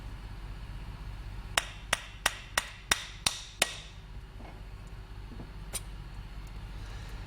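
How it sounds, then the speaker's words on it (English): Around seven sharp metallic taps in quick succession, then one more isolated tap, from work on the float bowl screws of a Mikuni carburetor on a vintage Triumph motorcycle, close and crisp over a quiet background. "Take the bowl off. Four screws holding the bowl on."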